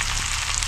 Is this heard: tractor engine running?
no